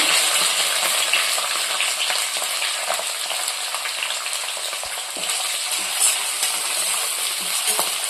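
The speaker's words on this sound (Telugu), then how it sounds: "ఇది మంచి కలర్ వచ్చే వరకు ఆయిల్లో ఫ్రై చేద్దాము" Onions, green chillies and curry leaves fry in hot oil, a steady bright sizzle with occasional stirring clinks of a utensil against the pan, continuous and close.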